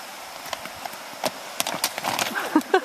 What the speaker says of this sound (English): this is Louie crossing a concrete bridge with rapid water.